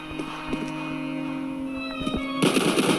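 Gunfire from the Roblox shooter game Left 2 Die: a few sharp shots early on, then a denser burst of rapid shots near the end, set against a steady game background.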